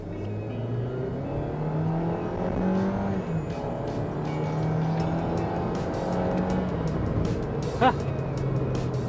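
A Mercedes-AMG A45 S engine accelerates hard with very quick gear shifts, a sustained engine drone with rising and stepping pitch, heard from inside the car at moderate loudness with a brief sharp chirp late on.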